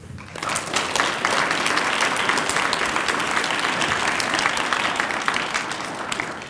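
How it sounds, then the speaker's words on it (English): A large audience at a university award ceremony applauds without pause, a dense, steady wash of clapping that swells quickly at the start and holds at full strength throughout, with no voices on top. "Please give yourselves a round of applause."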